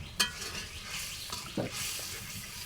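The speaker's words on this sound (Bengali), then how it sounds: "সমস্ত মশলাগুলো ভালোভাবে কষিয়ে নিব।" Ground spices, chili, coriander, cumin and salt being stirred and fried in a pan for a beef and ash gourd curry, with a steady sizzle, a sharp utensil clink at the start and scraping strokes of the spoon throughout.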